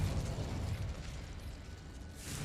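A Confringo blasting spell detonates in the Hogwarts Legacy video game, a dense low rumbling burst that fills the whole short stretch, loud and close, with a brighter hiss flaring near the end.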